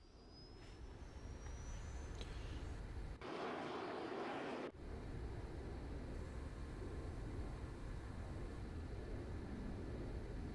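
An aircraft engine in the Arma 3 video game drones steadily in the cockpit, with a brief burst of louder broadband roar partway through and a continuous engine hum afterwards.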